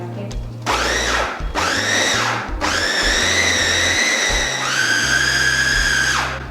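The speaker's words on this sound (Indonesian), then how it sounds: "Kita blend dulu biar si bawangnya halus." A kitchen blender grinds shallots, garlic and mackerel fish in loud whining bursts, about four pulses that rise and fall in pitch, with a voice heard faintly between them.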